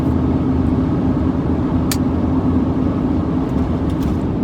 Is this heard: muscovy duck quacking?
no